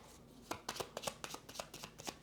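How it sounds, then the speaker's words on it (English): A deck of park cards from the board game Lands of Amazement gets shuffled by hand, giving a quick run of crisp riffling snaps and flutters close by on a quiet table. "I will then take the rest of the cards, which are the park cards, give those a good shuffle"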